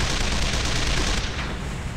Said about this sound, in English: Oh sweet, we're firing at stuff.